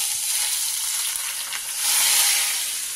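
Smoking-hot oil poured over Chinese noodles, giving a bright, hissing sizzle that swells briefly and then settles, close and steady, with no talking.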